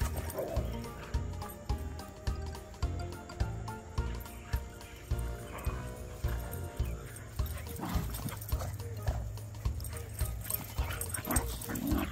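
Dogs playing in a yard, with repeated scuffling, panting and soft thuds in an uneven rhythm, occasional whimpers and barks up close, and a person speaking briefly.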